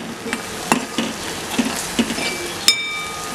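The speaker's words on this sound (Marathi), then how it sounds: "असा सुंदर असा मसाला आपल्याला परतून घ्यायचा आहे तेल सुटेपर्यंत" Masala for paneer bhurji sautéed in oil until the oil separates, a steady sizzle broken by several sharp spatula scrapes and clinks against the pan, with one bright metallic ring near the end.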